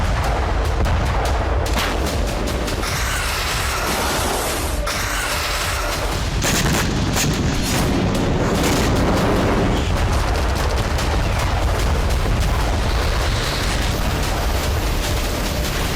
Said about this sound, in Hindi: ये वही भारतीय तोप है जिसकी दुनिया दीवानी है